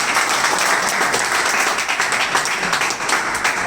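A live audience at a coaching institute's first anniversary event applauds Aman Sir, a dense, loud, sustained burst of many hands clapping that fills the whole stretch without pause.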